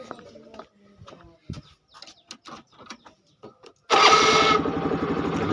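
Honda Activa scooter engine starting after a stretch of quiet talk, catching abruptly with a loud burst and then settling into a steady close idle.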